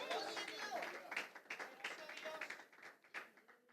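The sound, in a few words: church congregation clapping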